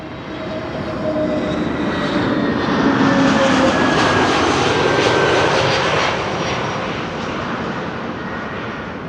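An Airbus A321neo jet arriving at Amsterdam Schiphol, a loud broad engine roar that swells toward the middle as it passes and then eases off slightly.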